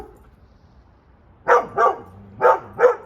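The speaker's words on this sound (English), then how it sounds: "That would be dog randomly barking at nothing" A dog barks four times near a winter workshop in Washington, two quick pairs of loud, close barks after a quiet start.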